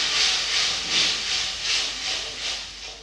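Steady sizzling hiss of water poured into a hot pan of cooking tomatoes, rising and falling in gentle pulses of steam, close and fairly loud with no talk.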